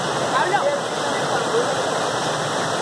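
Steady rushing river water pours over a natural stone slide, a dense continuous hiss with faint voices murmuring underneath.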